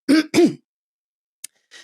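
Two quick, loud throat-clearing grunts close up, followed by silence, a brief click and a faint breathy sound.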